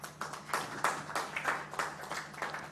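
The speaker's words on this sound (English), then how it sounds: "Let's give the government a hand clap." Hand clapping for a government at a human-rights event on COVID-19 recovery: about a dozen sharp, evenly spaced claps in a steady rhythm, fairly close and moderately loud, with no talk over them.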